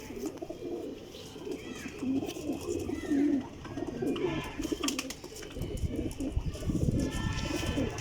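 Golden pigeons cooing nearby in a loft of flying pigeons, several soft repeated coos over general bird chatter and background noise.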